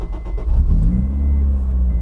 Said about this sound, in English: We've actually got an aftermarket engine start button on the side.